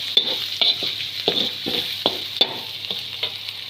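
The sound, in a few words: ground green chilli added to frying chicken karahi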